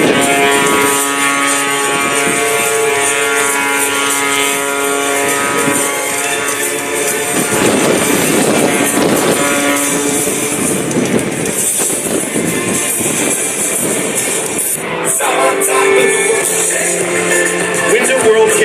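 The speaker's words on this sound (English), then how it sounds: "Look at Rob, zero airspeed, just hanging off that whirlwind propeller, using all 370 horsepower from that Sky Dynamics engine." A 370-horsepower Sky Dynamics aerobatic propeller plane with a Whirlwind propeller drones steadily at an air-show open house, hovering at zero airspeed. The engine's buzzing hum is loud throughout and surges in the middle, with announcer speech over it.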